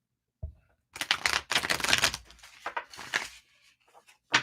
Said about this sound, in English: One more shuffle for Durwood.